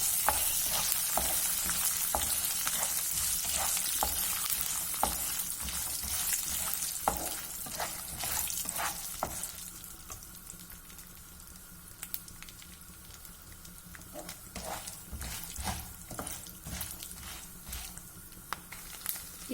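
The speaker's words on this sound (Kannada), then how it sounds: "ಈಗ ಇದಕ್ಕೆ ಒಂದು ಅರ್ಧ ಕಪ್ಪಷ್ಟು ಕಡಲೆಕಾಯಿ ಬೀಜ, ಇದನ್ನು ಸ್ವಲ್ಪ ಚೆನ್ನಾಗಿ ಫ್ರೈ ಮಾಡ್ಕೊಳ್ಳೋಣ." Peanuts fry in hot oil in a pan with steady close sizzling, broken by repeated scraping and clinking strokes of a spoon stirring them, the crackle thinning slightly partway through.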